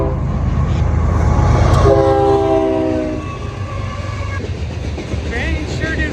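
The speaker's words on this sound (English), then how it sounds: "I heard a train" A train rumbles past loudly at a motocross race track, with a horn blast sounding in the middle and rail clatter continuing under the steady roar of the passing cars.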